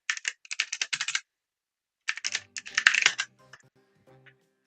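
Close, crisp computer keyboard typing comes in two quick runs of keystrokes separated by a pause, the second run denser before trailing off into a few stray taps.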